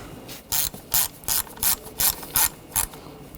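A ratchet wrench tightens a bolt on a 2013–2019 Ford Escape 2.0L four-cylinder engine, with about seven crisp clicking bursts in an even rhythm, close and clear with no talking.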